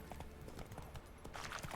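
Horse hooves clip-clopping at a gallop in Witcher 3, a steady rapid rhythm of thuds running the whole time over a busy game background, with no talk.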